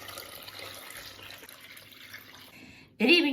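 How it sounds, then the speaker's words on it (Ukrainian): Water poured into a pot holding five 750 ml glass jars for canning tomato pulp, a soft continuous splashing trickle under quiet background, ending in a louder, sharper splash near the end. "Наливаємо тепер сюди воду."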